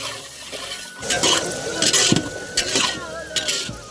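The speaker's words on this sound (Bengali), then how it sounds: "ফ্রাইড রাইসের জন্য কাজু কিশমিশগুলো ঢেলে দিচ্ছি। আমরা একসঙ্গে এটাকে ভেজে নেবো" Cashews and raisins frying in oil for fried rice, with a low sizzle beneath repeated metal spoon scrapes and clinks against the pan, close and moderately loud after a quiet start.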